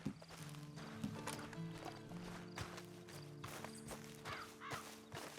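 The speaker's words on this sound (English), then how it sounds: "And you better get on this horse." Rhythmic clip-clop of horse hooves over the Red Dead Online soundtrack, with a brief whinny near the start and bird caws mixed in.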